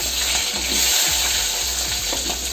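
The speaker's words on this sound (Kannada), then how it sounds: "ಈಗ ಮುಂದಿನ ಕಾರ್ಯಕ್ರಮವಾದಂತಹ ಈರುಳ್ಳಿಯನ್ನು ಎಣ್ಣೆ ಒಳಗಡೆ ಕಲಿಸ್ತಾ ಇದ್ದೀನಿ" Chopped onions, with ginger, chili and garlic, fry in hot oil while being stirred for palak paneer, a close, dense sizzle with intermittent scraping stir strokes and no talk.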